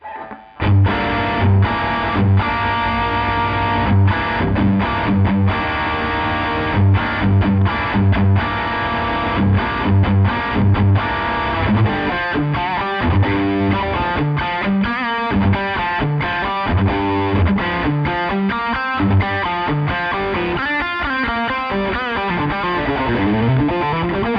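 Heavily distorted high-gain electric guitar through a 100-watt Marshall amp plays chugging riffs and sustained chords, loud and saturated, with no talking.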